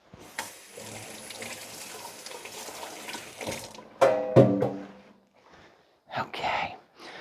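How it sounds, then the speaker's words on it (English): Kitchen tap running as hands are rinsed of raw egg, a steady hiss of water for a few seconds that stops, then short splashy bursts, with a voice speaking quietly nearby. "let me rinse since I've got raw egg."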